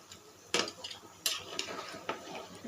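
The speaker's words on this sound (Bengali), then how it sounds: "ঢেলে একটু নেড়ে দিচ্ছি।" A spoon clatters against a cooking pot as boiled beef or goat trotters are stirred into frying onion and chili, with a few sharp metallic clanks over a faint low sizzle.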